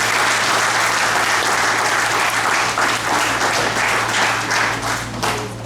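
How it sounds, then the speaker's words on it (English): An audience at a junior police academy graduation in Jersey City, New Jersey, claps in loud, dense, sustained applause that stays steady throughout and only begins to thin at the very end. "give yourselves a round of applause"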